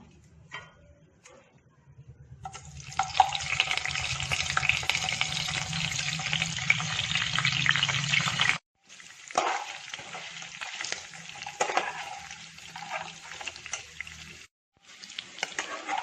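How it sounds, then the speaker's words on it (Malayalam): Pieces of duck meat fry in hot coconut oil in a pan for a Christmas duck roast, giving a loud steady sizzle, then quieter, choppier crackling with stirring clicks after a brief cut. "വെളിച്ചെണ്ണ ചൂടായി വരുമ്പോൾ ഇറച്ചി അതിലേക്ക് ചേർക്കുന്നു."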